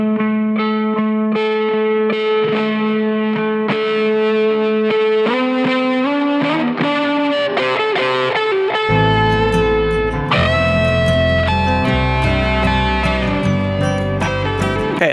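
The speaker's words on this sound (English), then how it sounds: "Let's throw it in some reverb so that it feels like it's in the same room as the rest of the music." Distorted, effect-heavy guitar chords ring out with a spacious reverberant tail from added reverb in a GarageBand mix, and a deep bass line enters about midway.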